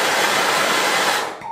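A small gas blowtorch with piezo ignition roars steadily with a broad hiss at close range, then its flame cuts out near the end.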